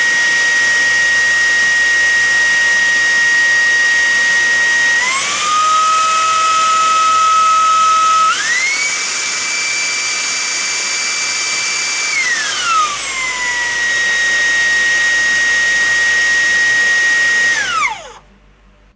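A Dreame V12 Pro cordless stick vacuum with a carbon tube runs loud and close with a high whine, stepping up to a higher power level, dropping back, then spinning down at the end.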